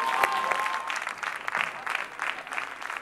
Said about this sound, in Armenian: Ծափարում ենք Սյուզաննա եւ Ռոբերտ։